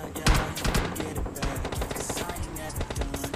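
Gunfire rattles in PUBG Mobile Lite as loud, rapid bursts of automatic shots repeat across the moment, with a faint voice talking beneath them.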